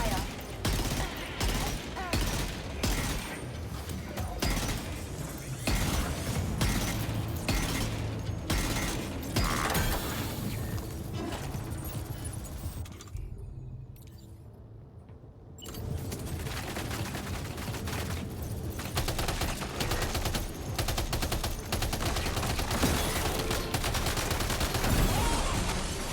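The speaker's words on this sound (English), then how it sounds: "Open fire." Gunfire in the Death Stranding 2 video game, rapid bursts of shots and mechanical clatter running almost continuously, with a brief lull near the middle before the firing resumes; voices occasionally sound over it.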